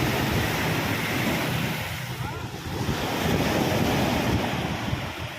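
Strong sea waves crash and churn on a muddy, brown sea after heavy rain, a continuous close roar of surf with gusty wind buffeting the microphone throughout.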